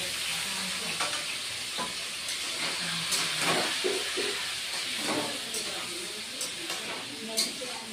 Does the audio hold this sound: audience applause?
no